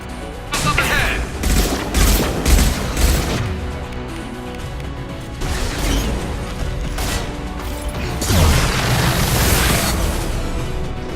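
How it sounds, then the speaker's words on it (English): Gunfire in Mass Effect 2, heavy fusillades of rapid shots and booming impacts in several loud bursts with short lulls between, dense and close. "Taking heavy fire!"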